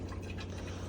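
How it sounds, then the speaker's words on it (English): Water runs from a tap on a Rimor Evo 66P motorhome while its boiler refills, producing a brief, steady splashing flow with faint dripping over a low hum. "eventually you'll start to get some water coming through the tap"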